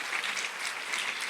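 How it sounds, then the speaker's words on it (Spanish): A church audience claps briefly for a woman named Jimena, a faint, even patter of many hands heard from a distance. "¿Qué tal si le damos un aplauso a Jimena, que hoy nos interpretó"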